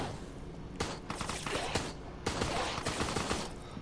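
Rapid gunfire in the multiplayer survival game Resident Evil Resistance, repeated bursts of automatic shots crackling in quick succession, fairly faint and distant-sounding, with no talk over it.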